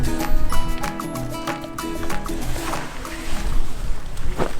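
Feet wading through a cold mountain river in Georgia, irregular close splashes and sloshing water over a running-water background, rising and falling with each step.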